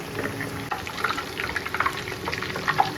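Milk cream sizzles and bubbles in a pan as it cooks down into ghee, with an uneven crackle of popping bursts over a steady frying hiss, heard up close with no voices.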